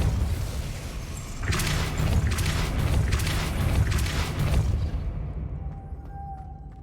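A Repulsor spell blast in the Hogwarts Legacy video game lands as a loud, rumbling burst of force with several rapid pulses, lasting a few seconds before fading into a quiet tail with faint high tones.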